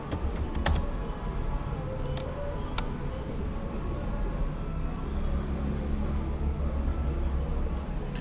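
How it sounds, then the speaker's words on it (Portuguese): Computer keyboard being typed on, a short run of light key clicks near the start followed by a few scattered taps over a steady low background hum, close and with no voices. "Vamos digitar aqui localhost."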